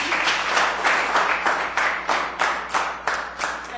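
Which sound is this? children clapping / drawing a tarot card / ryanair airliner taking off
children clapping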